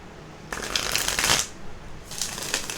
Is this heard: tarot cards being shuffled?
yes